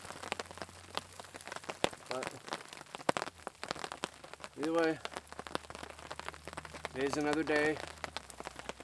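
Rain mixed with slush patters steadily on a tarp over a lakeside campsite, a dense close crackle of drops with sharper hits, while someone speaks briefly over it.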